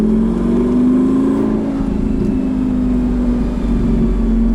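A 2007 Lamborghini Gallardo Spyder engine drones loud and steady at close range, revving with its pitch climbing slightly and holding steady, with no voices.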